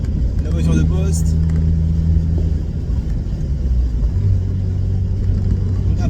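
A Mazda Miata engine rumbles while driving and then revs up, its pitch climbing in a steady rise under ongoing conversation inside the car.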